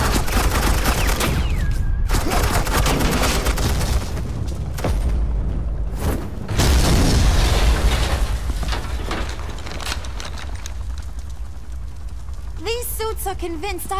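Suppressing gunfire in the game Batman: The Enemy Within, a dense, loud barrage of rapid shots and booms running almost continuously, with a voice briefly audible near the end.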